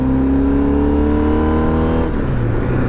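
A 1989 car's engine revving up close, a loud steady rasping drone with stacked harmonic tones that rise slightly, then the note shifts and settles as the revs change, with no talk over it.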